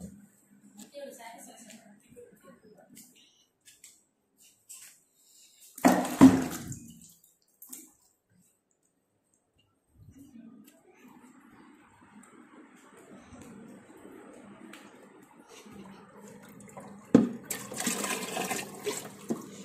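Water rushes and splashes in two short bursts, separated by long quiet stretches with faint low background noise.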